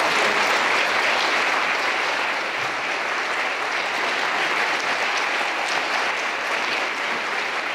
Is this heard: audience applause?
yes